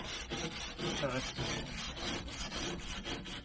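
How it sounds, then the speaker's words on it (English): Excess paint being scraped off the steel hull of a canal narrowboat, a steady run of rough rasping strokes, close and moderately loud, with no talking. "busy trying to get all the excess paint and that off"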